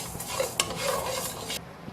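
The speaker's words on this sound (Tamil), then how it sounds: "அரிசியும் நல்லா பக்குவமாக வறுத்து எடுக்கணும்." Dry rice roasts in a pan for sambar powder, making soft scraping and rustling as it is stirred, with one sharp tap of the utensil against the pan, close and brief.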